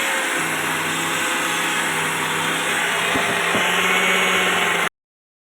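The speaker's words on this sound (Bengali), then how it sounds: "এখন আমি এগুলো মিক্সচার গ্রাইন্ডে গুঁড়ো করব" A mixer grinder whirs loudly and steadily as it grinds dried rice into flour, then cuts off abruptly near the end.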